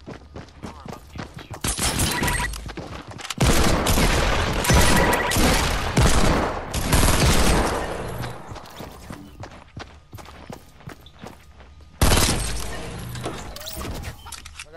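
Gunfire in the video game Fortnite, dense bursts of rapid shots and crackling volleys, loud and close, with short gaps between barrages.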